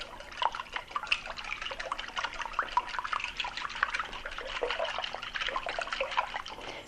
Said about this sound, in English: I'm just going to whisk this to break the eggs up